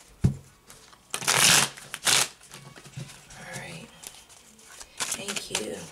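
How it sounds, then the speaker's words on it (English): Riffling bursts of playing cards being shuffled, two loud flutters followed by softer card handling, close by with faint speech. "Okay, one more shuffle."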